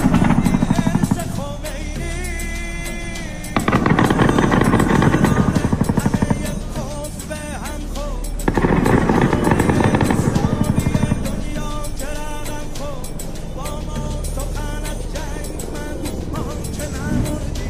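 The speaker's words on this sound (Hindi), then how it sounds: "इराक के जो ईरान समर्थक ग्रुप हैं उनके ऊपर अमेरिका के हेलीकॉप्टर गोलीबारी कर रहे हैं" US military helicopters firing on Iran-backed groups in Iraq, heard as a loud, steady rotor and engine roar throughout with surging swells of noise, mixed with faint voices.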